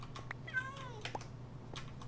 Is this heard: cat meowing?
yes